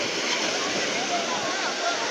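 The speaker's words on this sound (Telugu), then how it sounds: "ఈ మాత్రం అలలు ఉంటాయి అలా ఉన్నాయన్నమాట సముద్రం ఇది" Gentle sea waves at calm low tide wash steadily onto the shore, a soft continuous broadband hiss of surf with no distinct breaks, heard alone and fairly close.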